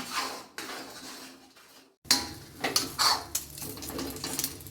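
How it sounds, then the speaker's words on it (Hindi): Halwa with ghee being stirred in a pot on low heat: a metal spoon scrapes and knocks against the pot in irregular strokes, close and fairly quiet, with a brief pause midway. "धीमी आंच पर धीरे धीरे चलाते हुए इस तरह से हलवा को पकाएंगे"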